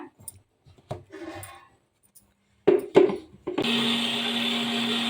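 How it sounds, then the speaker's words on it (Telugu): A few clicks and clatters as a small mixer grinder jar holding cumin, coriander and garlic is fitted, then the motor starts with a loud, steady, close whirring grind for the last seconds. "చిన్న కప్పులు వేసుకొని ఇందులోనే వెల్లుల్లి రబ్బలు వేసి మిక్సీ పట్టుకోవాలి"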